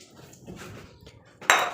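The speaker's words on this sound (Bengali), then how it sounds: "এখন আমি জল দিব" Water poured into a hot cooking pan, a sudden loud hiss and splash bursting in after a stretch of quiet kitchen clinks.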